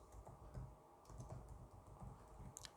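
Fingers type code on a computer keyboard in a quiet room, a soft, irregular patter of key clicks in short bursts, close and faint.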